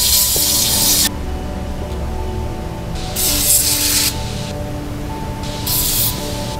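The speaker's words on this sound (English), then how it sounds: "So give it a spray." Three bursts of hissing aerosol contact cleaner sprayed into a car engine, each about a second long, with a low mechanical hum continuing underneath.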